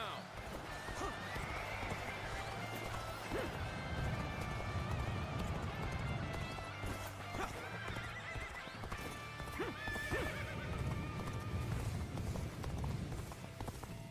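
In Dynasty Warriors Origins, a horse gallops with rapid, steady hoofbeats and whinnies a few times, set against battle noise and game music, with a voice talking over it.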